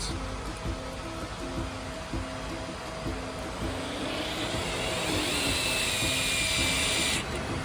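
Power driver whirring as it drives two front screws on a Tesla Model 3 round steering wheel retrofit, a steady buzzing tool run close to the mic with faint pulsing and a higher whine near the end.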